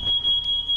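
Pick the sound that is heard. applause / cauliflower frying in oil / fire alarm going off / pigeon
fire alarm going off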